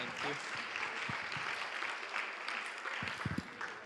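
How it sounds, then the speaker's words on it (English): An audience at a talk on transforming Fresh Kills park on Staten Island claps to welcome a speaker, a moderate, somewhat thin spread of hands with scattered voices and shuffling mixed in. "Let's give him a round of applause."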